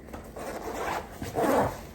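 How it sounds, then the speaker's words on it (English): A zipper is run along the front pocket of a kids' school backpack, close up, in two quick rasping pulls with the second louder. "It's got a front pocket right here with a zipper"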